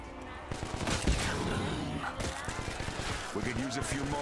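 An SCAR-H rifle fires in Black Ops 3 Zombies as rapid bursts of gunshots with heavy recoil, close and fairly loud, while someone talks over the shooting.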